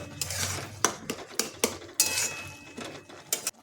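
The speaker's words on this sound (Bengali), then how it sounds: "এখন টমেটোটা একটু ভেজে নেব। ভাজতে ভাজতেই টমেটোটা গলিয়ে দেবো।" A utensil stirs tomatoes frying in a pan, giving a string of sharp metallic clinks and scrapes in an irregular rhythm, close and fairly quiet.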